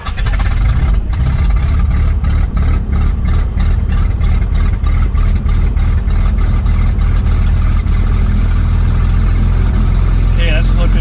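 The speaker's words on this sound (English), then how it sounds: "So you can start the engine with the fuel off." Aerostar light piston twin aircraft engine running steadily after start, a loud continuous low rumble with a rhythmic pulsing throb, close and unbroken for the whole stretch.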